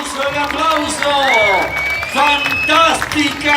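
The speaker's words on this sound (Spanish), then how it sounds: "Que venga el aplauso. El aplauso, el aplauso." A crowd applauds a Pasos de Fuego carnival performance in Rosario de Lerma, Salta, clapping steadily under a loud announcer's voice and background music.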